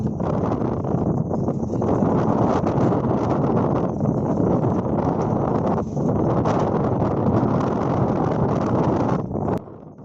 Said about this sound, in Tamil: இப்போ வந்து ஆழ்கடல் பகுதியிலேருந்து கரையை நோக்கி வந்து காற்று அடிக்க ஆரம்பிச்சிருக்கு.